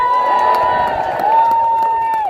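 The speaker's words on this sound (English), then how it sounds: "give a massive cheer in appreciation of this wonderful nature world around us" A crowd at a climate change rally in Nottingham cheers together for a couple of seconds. One shrill sustained voice rings out above the rest.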